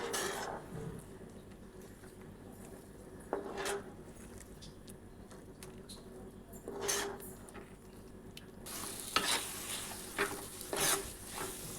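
Roasted wheat flour being stirred with milk in a pan, a soft steady scraping and sizzling swirl running throughout, with a few louder scrapes of the spoon against the pan.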